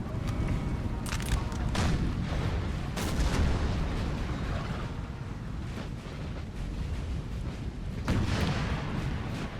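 Artillery fire on a Napoleonic battlefield in Napoleon Total War, rumbling distant cannon booms spread through a steady windy roar, with a few sharper reports standing out.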